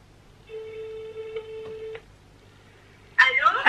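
A telephone is dialed with a steady tone followed by a few beeps, then goes quiet before a louder burst of sound as the call connects, over low room noise.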